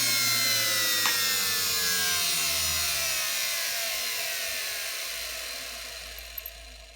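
Two hotwired Dyson CR01 vacuum motors whir at high speed, then spin down, their pitch gradually falling as the loud, steady whine fades over several seconds.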